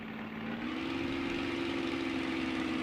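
A Spitfire engine in the MSFS2020 flight simulator recovers from overheating, running as a steady, continuous drone with a strong low hum that rises slightly in pitch early on and then holds level, with no voices.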